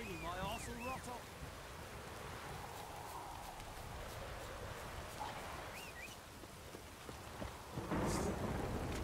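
Heavy rain and rolling thunder in The Witcher 3 form a constant hiss with deep rumbles, swelling louder near the end, and a voice briefly speaks at the start.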